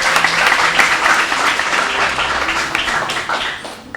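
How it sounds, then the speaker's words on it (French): Audience at a Haitian school quiz competition between two Pétionville lycées applauding a team, steady dense clapping that holds for several seconds and then thins slightly toward the end, loud and close, with no voices. "Je vous demande d'applaudir cette équipe."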